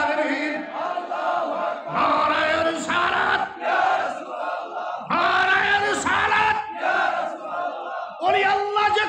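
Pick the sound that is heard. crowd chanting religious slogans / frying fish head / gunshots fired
crowd chanting religious slogans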